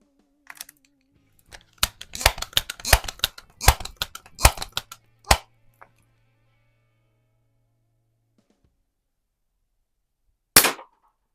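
A 1970 Western Auto Revelation pump air rifle, a Crosman 760, fires BB or pellet shots at plinking targets. The crisp, close snaps and clicks come in a dense irregular cluster, followed by one isolated shot after a long silence.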